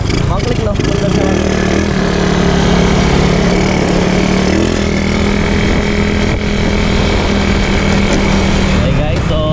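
A motorcycle fitted with a Keihin flat-slide carburetor idles loudly and close by, a steady, unbroken engine drone that runs for the whole stretch.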